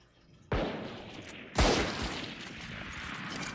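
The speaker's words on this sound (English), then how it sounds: "guns are starting to be fired off here" Gunfire in a competitive Valorant match: two sharp bursts of shots, the second louder, each fading into a noisy reverberant tail, with no voices.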